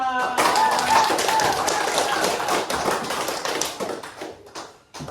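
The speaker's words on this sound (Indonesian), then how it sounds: "kasih aplaus untuk teman kita Barata" Classroom audience applauding a classmate, a dense burst of many hands clapping that fades out over several seconds, with a voice briefly heard over it.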